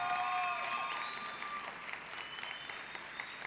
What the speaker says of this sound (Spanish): Vamos a dar un aplauso a las cocineras